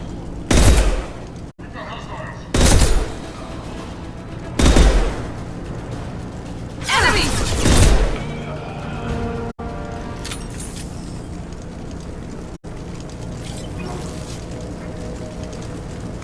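Blue Suns mercenaries and Vorcha trade gunfire in Mass Effect, several separate bursts of shots spaced a few seconds apart, a distant battle sound under ongoing talk.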